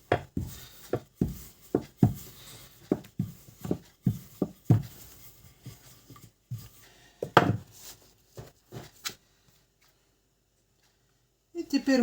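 A knife cuts through rolled-out lenten cookie dough on a board, a series of close, sharp irregular thuds and taps spaced about half a second apart, then near silence before a brief return of sound.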